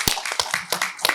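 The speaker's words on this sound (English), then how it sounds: "I'm gonna give her a round of applause." Scattered handclaps from a small audience at a media literacy panel discussion, a handful of sharp claps in an uneven rhythm over about a second, fairly close and moderately loud.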